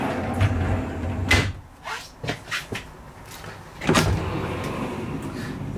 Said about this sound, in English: we've also got some storage space up behind these slide out doors